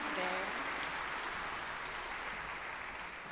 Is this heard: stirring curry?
no